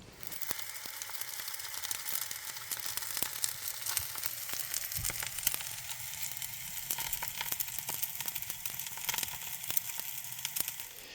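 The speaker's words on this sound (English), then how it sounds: "I'm just cooking up a wee bit of breakfast" Breakfast fries in a pan at a campervan stop, a steady close sizzle and crackle running throughout, with scattered sharp pops and a few light scraping or crinkling touches, no talking.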